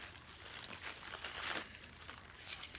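Packaging being pulled off a newly unboxed Michael Kors purse, close crinkling and crumpling of wrapping with soft tearing bursts, quiet and handled near the microphone.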